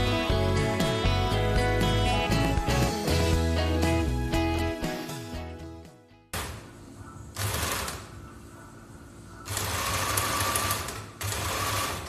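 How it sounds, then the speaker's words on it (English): A domestic sewing machine stitches a dart in a dress, running in long continuous bursts of rapid needle chatter with brief pauses between runs, close and steady, no talking. "I'm sewing the dart"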